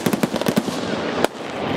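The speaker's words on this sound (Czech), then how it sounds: "Němci střílí z kulometu na těžké trojnožce, to znamená MG42" MG42 machine gun firing from a heavy tripod during a 1945 battle reenactment: a rapid burst of loud, close shots, followed after a short gap by one more sharp crack.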